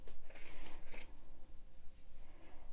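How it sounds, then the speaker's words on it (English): Knife or scissors cutting away the bulk of a gourd, soft close scraping and snipping strokes, quiet and irregular, with a few brighter crisp cuts at the start. "So just cut away the bulk so that you can see better."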